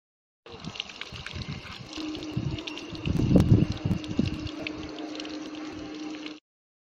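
Water runs from an outdoor tap in a steady, fairly close gush that swells briefly in the middle and then stops abruptly near the end.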